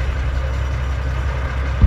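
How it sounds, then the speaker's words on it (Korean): A vehicle engine runs in the World War II battle game ArmA 3, a steady, loud low rumble that drones without pause throughout, with a brief thump at the end. "지금 이놈의 엔진 소리 때문에 하나도 안 들려요."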